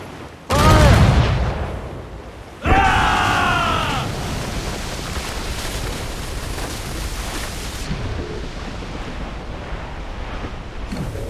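Ships firing cannons in the naval game Assassin's Creed Rogue, set among icy waters, with two heavy booming blasts close together followed by a long roaring wash of sea and wind.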